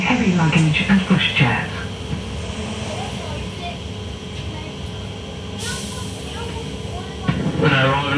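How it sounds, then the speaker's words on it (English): Class 323 electric multiple unit pulling into Bromsgrove station, a steady low rumble and hiss of the train running beneath announcement-style talk, with brief louder bursts of voice at the start and end. "We are now approaching Bromsgrove, our final destination where this train terminates."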